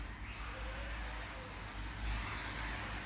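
Small RC model cars race around a track in a hobby shop's local Grand Prix, a steady buzzing motor drone holding throughout with a slight swell near the end, no talk over it.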